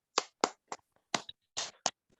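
Children in an Indonesian primary school class clap a patterned chant-clap, sharp bursts of claps in a syncopated rhythm with short pauses between groups, close and alone without talk.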